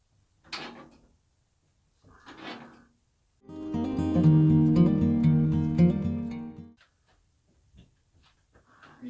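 Metz shrinker stretcher working a sheet of 16 gauge mild steel in shrinking jaws: two short metallic clunks, then a loud ringing grind lasting a few seconds, followed by faint handling knocks.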